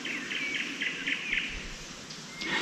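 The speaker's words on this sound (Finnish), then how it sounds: "kun mustarastaat yhdellä suunnalla ja satakielet toisella suunnalla, niin täällä on näitä kivoja luontoääniä" Blackbirds and nightingales sing outdoors in Finnish countryside by the water, a faint repeating series of bright chirps and trills carrying from a distance over a quiet steady background.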